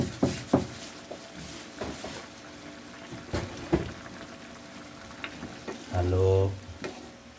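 Batangas-style caldereta is stirred in a frying pan, with a steady sizzle under repeated clanks and scrapes of the utensil against the pan and a brief louder hiss near the end.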